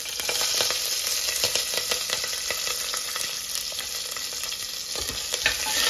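Green chillies sizzle in hot oil in a pan as a spoon stirs them, with a constant frying hiss and scattered scrape clicks throughout.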